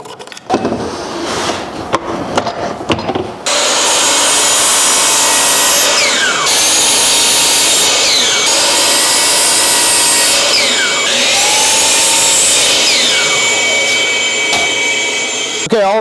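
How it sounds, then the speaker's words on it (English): A miter saw cuts pieces of wood in a workshop: a few clicks and handling knocks, then the motor spins up to a loud, continuous whine with repeated dips and rises in pitch as the blade bites through each piece. "I'm going to do this on the miter saw"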